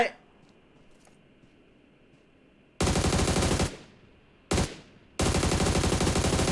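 Automatic weapon fire in PUBG Mobile, loud sustained bursts of rapid gunshots in three long volleys separated by short pauses, following a quiet stretch of low game ambience.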